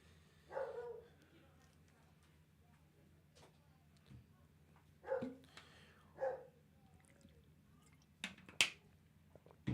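A dog barks in short separate bursts off in the background, apparently outdoors, across the stretch, with a sharper yip near the end; no one speaks over it.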